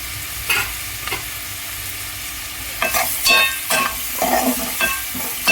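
Taro pieces with turmeric frying in a pan for chamadumpalu curry, a soft sizzle broken by repeated scraping stirs that grow busier toward the end.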